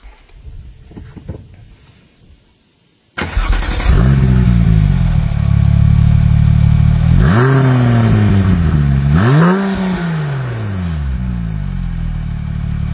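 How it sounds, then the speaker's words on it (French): After a quiet start, a Porsche 996 Turbo engine fires up and revs repeatedly, rising and falling in pitch with a loud, throaty rumble, heard up close from outside the car in a garage. "pouvez-vous nous démarrer l'automobile et la faire chanter légèrement pour qu'on puisse apprécier depuis l'extérieur la magnifique sonorité"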